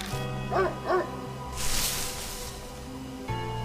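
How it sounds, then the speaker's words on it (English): A dog barks in the horror video game Spirit Hunter: Death Mark, with two quick close barks over an eerie ambient drone, followed by a brief swelling whoosh. "The dog barks loudly, then vanishes into the western underbrush."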